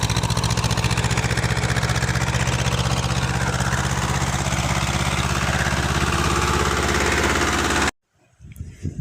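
A Swaraj 724 tractor engine runs steadily in a custard apple orchard, a loud, close, rapid chugging diesel throb that continues evenly before cutting off abruptly, leaving faint rustling afterward.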